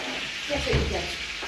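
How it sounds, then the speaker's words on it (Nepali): Chicken and onion frying in a pan, a steady soft sizzle running throughout under faint background voices. "यहाँ छ यता चिकन पाक्दैछ। प्याज म दिएको छु हुन्छ।"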